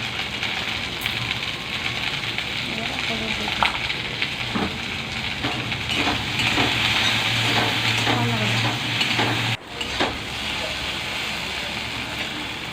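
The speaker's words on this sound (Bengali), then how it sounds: "একটু লবণ দিয়ে এগুলো আর একটু নাড়াচাড়া করে নিতে হবে।" Okra frying with salt in a pan for bhindi masala, a steady close sizzle with soft scraping and stirring of a spatula through the pieces, briefly interrupted near the end, no speech.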